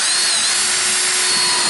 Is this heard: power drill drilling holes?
yes